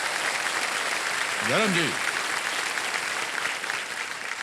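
Dense, steady applause from a large studio audience on the game show Kaun Banega Crorepati, cheering the host, fills the whole stretch, with a voice briefly heard over it.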